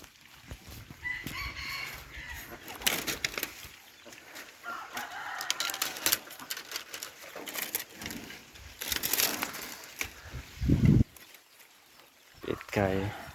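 Chickens cluck and a rooster crows at a rural village garden in northeastern Thailand, faint and scattered beneath ongoing conversation between people.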